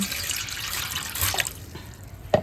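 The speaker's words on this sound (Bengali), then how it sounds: "এবার আমি জল নিচ্ছি" Water poured from a tap over coconut husk for soaking, a close, splashing rush that thins toward the end and closes with a sharp knock and a few drips.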